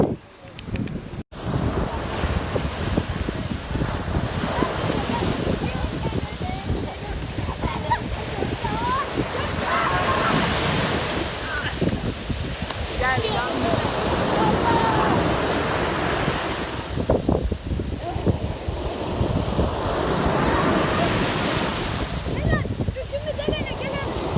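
Surf breaking steadily at a beach, with a continuous loud wash of waves and heavy wind buffeting the microphone throughout.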